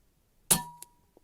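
An Umarex Origin .25 cal air rifle pellet strikes a target at 50 yards with one sharp, loud metallic clang that rings briefly and fades, followed by a couple of faint ticks.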